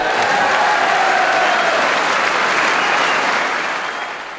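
A snooker audience bursts into sustained applause, a dense wash of clapping that holds steady and then begins to fade toward the end.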